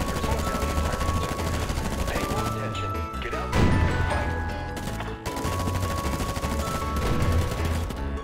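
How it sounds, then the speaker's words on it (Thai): Rapid gunfire and bursts of automatic fire crackle through a 32-versus-32 online battle in the mobile shooter FireFront, layered with explosions and game effects, dense and loud from start to finish. "มันยิงกันโหดจังวะฝั่งนั้นแม่งยิงกันแบบกูร้องขอชีวิตเลย"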